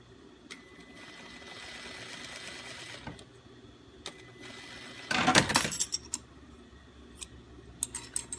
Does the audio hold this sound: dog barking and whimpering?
no